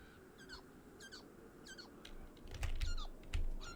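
Birds chirp in the video game Beyond Eyes, repeated short high trills and tweets at intervals against a faint ambient bed, with a few louder low thumps near the end.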